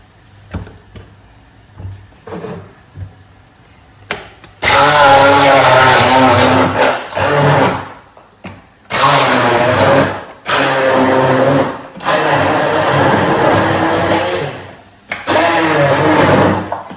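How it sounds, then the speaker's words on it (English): Loud bursts of a blender pureeing vegetables for a corned beef egg sauce, several whirring runs of a few seconds each separated by short pauses, with small clicks and knocks in between. "Let's go ahead and blend our veggies."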